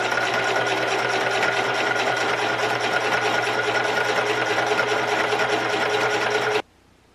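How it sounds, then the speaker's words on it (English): A sewing machine stitching pinned fabric for a fairy hat, running at a loud, steady whir for about six and a half seconds before stopping abruptly. "I've pinned it together, right sides together, and I'm gonna go sew it."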